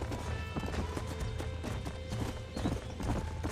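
Horse hooves clip-clopping steadily with occasional neighs and whinnies in the video game Red Dead Redemption, on a ranch, layered over busy game ambience with a continuous, dense rhythm of hoofbeats.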